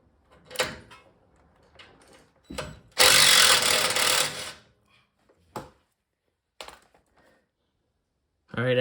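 A power tool, likely an impact driver or drill, runs in one loud burst of about a second and a half while bolts come off a brake line bracket on a 2019 Ford F-150, with clanks and handling noises around it.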